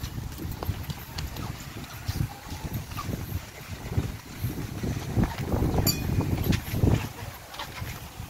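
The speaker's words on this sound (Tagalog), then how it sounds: "Grabe, lakas ng hangin." Strong wind buffets the microphone in irregular rumbling gusts throughout, growing louder toward the end.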